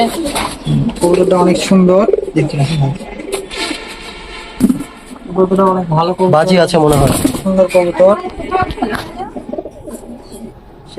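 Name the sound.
pigeons cooing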